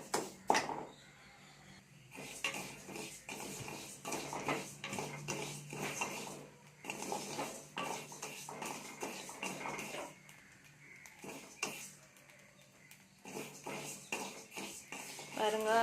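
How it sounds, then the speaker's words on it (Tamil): Rice, black pepper and cumin dry-roasting in a pan, with a utensil scraping and clinking against the metal in an irregular stirring rhythm, soft and close throughout. "அந்த அரிசி, மிளகு, சீரகம் இது மூணுத்தையும் நல்லா வறுக்க போகிறோம்"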